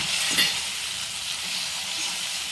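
Onion and tomato fry in hot oil with a steady, close hiss and sizzle, a brief scrape of stirring near the start.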